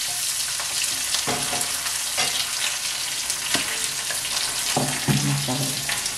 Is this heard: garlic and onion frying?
yes